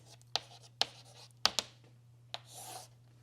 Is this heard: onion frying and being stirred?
no